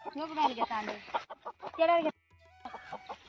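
Chickens cluck and squawk in short bursts nearby, mixed with a person speaking, with a brief quiet gap before more clucking.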